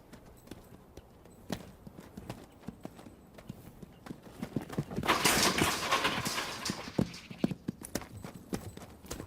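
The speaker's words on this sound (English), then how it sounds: "This 2-year-old quarter horse stud, born on the open range, has never been handled." Hooves of a young, unhandled quarter horse stud clatter in an uneven, repeated clip-clop rhythm at close range on a ranch. A burst of rushing, scuffling noise rises midway and then fades.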